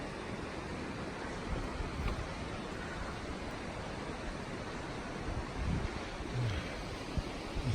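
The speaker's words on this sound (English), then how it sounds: "Water's flowing good." Creek water flowing through a big canyon along a trail, a steady broadband rush with no clear pauses, heard alone without voices, with a few brief knocks near the end.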